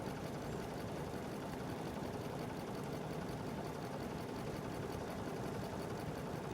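Sewing machine stitching a seam on a cotton mask, a continuous, even, rapid whir running throughout without pauses.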